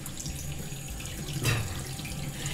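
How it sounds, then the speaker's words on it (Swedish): A tap runs steadily into a sink while hands are washed with soap, a continuous near splash with a brief louder gush midway. "så kan du börja tvätta händerna"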